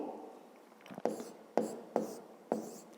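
A pen or pencil writing out a fifth-grade math exercise on paper makes a quiet, scratchy rub, broken by four crisp taps about half a second apart as strokes land.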